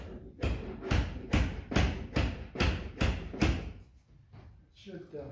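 Someone bangs on part of a Jeep TJ soft top while fitting it, giving about eight hollow, evenly spaced thumps of fabric and frame, close and fairly loud, before a few softer knocks.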